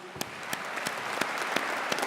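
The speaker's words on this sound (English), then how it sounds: "Give that a big round of applause, please." Graduates and guests in a Birmingham City University ceremony hall give a brief round of applause, a dense patter of many hands with a few sharper, regular claps standing out.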